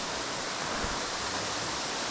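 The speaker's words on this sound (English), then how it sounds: "There's Biwa Falls." Biwa Falls, a small waterfall along a mountain hiking trail in Japan, gives a constant broadband rush of falling water. The wash is steady and moderately loud, with no voices over it.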